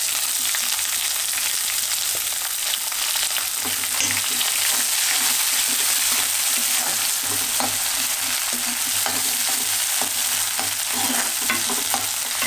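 Onions frying in hot oil in a pan for idli sambar, giving a steady loud sizzle with faint stirring scrapes throughout and no talking.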